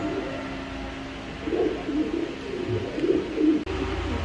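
A racing pigeon from a limited club racer pair coos in soft low bursts, two clear rounds of cooing rising over a steady background hum.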